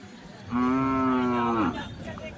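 A single long, loud moo from a calf rings out for about a second, with faint background chatter of a crowd at a cattle market in Chalisgaon.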